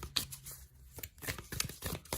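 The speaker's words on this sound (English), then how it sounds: "we'll give them another quick shuffle on camera" Tarot cards are shuffled by hand in a quick series of crisp riffling and slapping bursts. The bursts come close and irregular, with no talking.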